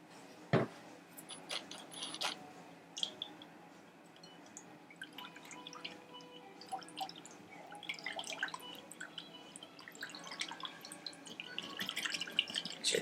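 A whisk clatters and taps against a bowl while mixing wet ingredients for gluten-free vegan pita bread, a scattered run of light clicks and soft liquid sloshes that grows busier toward the end, close and without talk.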